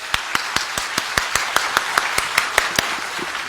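At a film preview event, a single pair of hands claps near and distinct in a steady rhythm, about a dozen sharp claps spaced evenly, over a faint room background.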